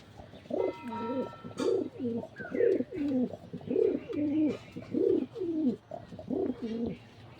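Newly acquired pigeons coo close by in a repeated run of throaty, rolling calls that follow one another steadily for several seconds.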